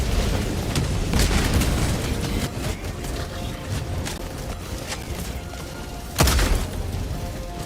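Grenade blasts in Helldivers 2 combat, loud booming explosions with rumbling low end amid ongoing gunfire, one sharp heavy burst standing out near the end.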